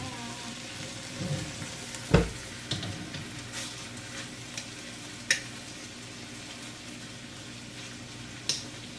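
BBQ chicken sizzles steadily in a pan on the stove, a constant frying hiss broken by a few sharp clanks and scrapes as it is stirred and turned, close and alone.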